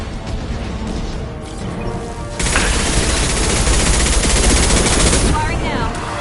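Heavy automatic gunfire from a Mass Effect 2 battle erupts after a quieter stretch, a loud sustained roar of rapid shots that holds for several seconds before easing off.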